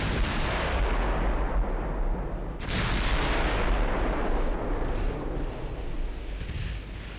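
Heavy naval guns thunder in a warship battle game, a dense, continuous roar with booming shots and wind-like rushing, loud and with no voices over it.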